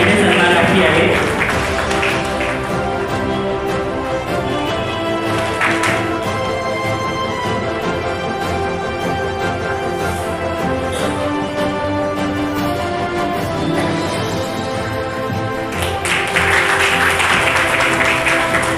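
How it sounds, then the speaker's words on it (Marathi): An audience claps at a Samvidhan Samman 2025 award ceremony, a steady dense applause with a musical background running underneath that swells again toward the end, with no speech heard. "एकदा जोरदार टाळ्या स्वरूप रवींद्र नेटवटे यांच्यासाठी।"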